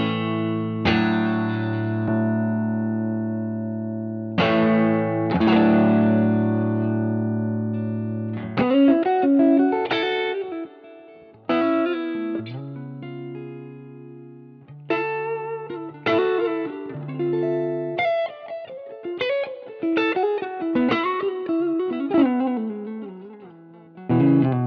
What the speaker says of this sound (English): A lovely sounding overdrive.